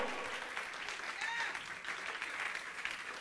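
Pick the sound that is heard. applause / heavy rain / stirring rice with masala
applause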